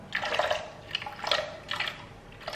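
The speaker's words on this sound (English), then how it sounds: "Oh my god, I hate pouring water." Water is poured into a homemade bread mix, giving a few short splashy trickles and drips close by with brief pauses between them.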